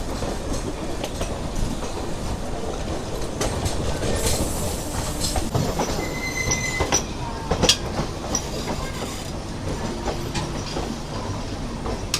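A Tirupati to Adilabad express train rolling along, a continuous rumble with clickety-clack rhythm and occasional brief wheel squeals, moderately loud from inside a crowded general coach.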